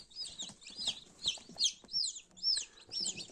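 Several newly hatched chicks in an incubator peep in high, close, repeated chirps, overlapping in quick bursts with no talk.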